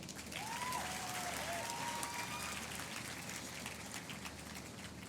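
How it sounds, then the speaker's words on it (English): A crowd at a university convocation ceremony bursts into sustained applause, dense clapping heard from a distance and fairly faint, with a brief cheer or whistle rising above it. "So have a round of applause for all of you."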